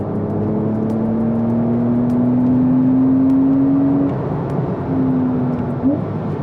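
A Porsche 911 Carrera turbo engine hums and climbs steadily in pitch as it accelerates from 2,500 rpm, a smooth rising drone heard from inside, briefly dipping before pulling again.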